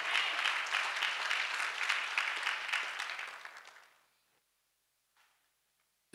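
A church congregation claps together in a dense, steady burst of applause that fades out after about four seconds, followed by near silence with a faint brief sound near the end.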